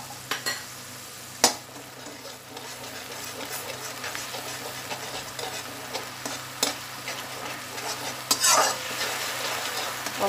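Ginger and garlic paste with spices being stirred in a hot pan, a soft steady sizzle with scattered scraping clinks of a spoon against the metal, close and alone without talk.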